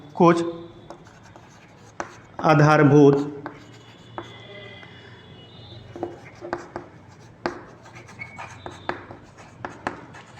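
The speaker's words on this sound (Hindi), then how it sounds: "नोट मैं लिख दे रहा हूँ" Hand writing of notes, with scattered soft pen scratches and taps on paper, and someone speaking briefly at the start.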